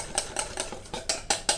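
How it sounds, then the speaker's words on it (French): Whisk beating tempura batter in a bowl, about seven quick rhythmic scrapes and clinks at a steady pace, fairly soft and close, with no talk. "On mélange au fouet jusqu'à avoir une pâte pas trop épaisse."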